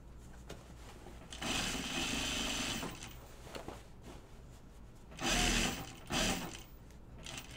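Sewing machine stitching a hem on shorts, quiet rapid mechanical whirring that comes in short bursts separated by pauses, close but faint.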